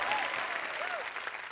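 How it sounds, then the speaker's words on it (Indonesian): An audience at an Indonesian televised singing contest applauds steadily, a dense, even clatter of clapping heard up close with a few faint tonal sweeps in the background. "tepuk tangan dulu"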